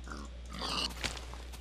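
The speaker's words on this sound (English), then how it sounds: "There's a bunch of pigs." Pigs grunting in the Minecraft video game, a few short snorting oinks close by over a low steady hum.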